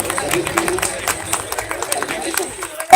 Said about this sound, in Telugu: అందరూ గట్టిగా ఒకసారి చప్పట్లు కొట్టాలండి